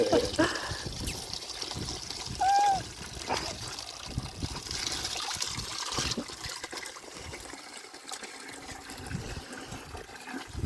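Well water flowing and trickling as buckets are filled outdoors, a continuous splashing pour with bursts of louder gushing, while people talk nearby.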